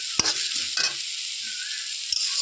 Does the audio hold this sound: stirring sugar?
yes